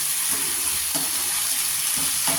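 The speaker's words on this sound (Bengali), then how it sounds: "চিকেন রান্না কিন্তু ভালো করে কষাইতে হবে, কষতে কষতে কষতে কষতে তেলটা ছাড়ে" Chicken and potato pieces sautéing in oil for a potato chicken curry, a steady sizzle with a few spaced scraping stirs of a spatula against the pan, no talking.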